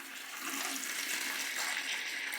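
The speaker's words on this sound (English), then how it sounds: "And that's how you start the siphon." Aquarium water runs steadily through a siphon hose into a bucket during a weekly water change, producing a continuous rushing, gurgling flow that holds level throughout.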